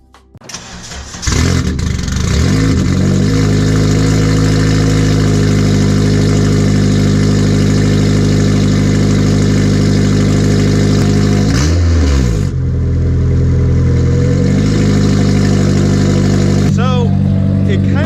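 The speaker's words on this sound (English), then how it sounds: "Sounds like a tractor, but you can also hear the turbo spool way more" A loud, rough, straight-piped turbocharged Honda Civic engine idles continuously close by, with a brief dip and rev midway and a faint rising turbo whine near the end.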